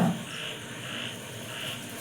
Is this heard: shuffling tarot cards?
no